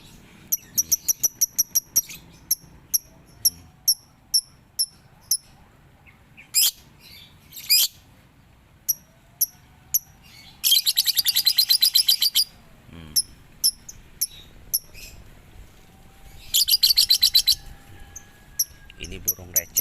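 A small songbird chirps in quick repeated bursts, with two louder stretches of rapid twittering and soft background noise between calls.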